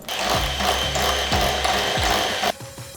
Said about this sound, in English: Electric mixer to make this easier on ourselves.